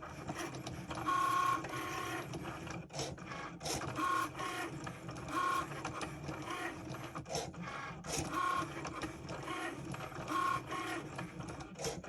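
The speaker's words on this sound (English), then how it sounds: "now your Cricut Maker is printing your customized mug" A Cricut Maker cutting machine works on a personalized mug design, whirring and buzzing steadily with repeated short motor tones as the carriage moves back and forth, close and alone.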